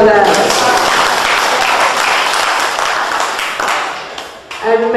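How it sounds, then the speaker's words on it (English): An audience at an evening tribute event applauds, a dense, loud burst of clapping that carries on for several seconds, then thins out and fades as a voice begins speaking. "yes, you can clap, Miss Jeff, Miss St. Joe, put your hands together for that"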